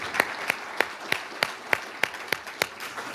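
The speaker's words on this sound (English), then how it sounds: "It's an applause line. Join me in thanking our wonderful panel, Sam, Ken, and Suma." A small audience claps slowly and sparsely for a panel at the close of a policy discussion on American industry, about ten distinct claps spaced evenly, with no voices.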